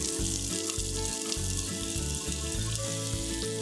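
Onions hitting a hot pan with meat juices and oil, a loud, close crackling sizzle that runs continuously, with no talking.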